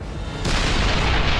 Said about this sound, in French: Ils sont attaqués par 4 nouveaux canons anti-chars allemands, puissants, précis et mortels.